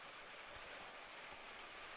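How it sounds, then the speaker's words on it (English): Steady rain pours down over an outdoor baseball field during a game, a constant even hiss filling the whole span with no talk over it. "as you guys can hear, the rain is coming down quite steadily."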